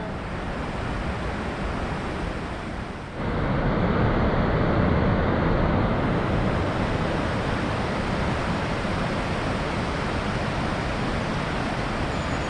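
The Rhine Falls in Switzerland, heard from above, roar powerfully and continuously, a dense broadband rush of falling water that steps up louder after a few seconds and stays steady.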